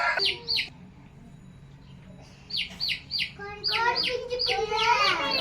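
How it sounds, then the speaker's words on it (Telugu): A baby chicken peeps in short bursts of high, shrill chirps, grouped in twos and threes with pauses between, followed by a busier cluster of calls. "కోడి పిల్ల కోడిపుంజు పిల్ల కాదు కోడి పిల్ల"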